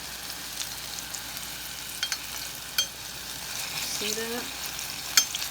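Ripe plantains fry in a pan, a steady soft sizzle close by with a few clinks of a utensil, while a person speaks briefly over it.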